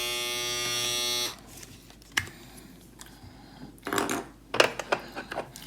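An inexpensive electric beard trimmer buzzes steadily up close for about a second, then switches off, leaving quiet handling clicks and small knocks.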